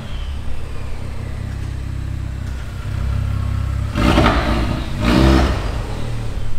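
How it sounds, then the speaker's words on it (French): Four-cylinder engine of a very light sports car of about 400 horsepower, heard in a showroom as a steady idle hum that swells into two loud, sharp revs near the end, with no talk. "Le 4 cylindres, il chante pas mal."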